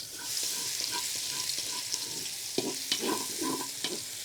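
Garlic sizzles in hot oil for pork afritada cooked outdoors, a steady frying hiss broken by soft stirring scrapes and clinks, fairly quiet and close, with no talking.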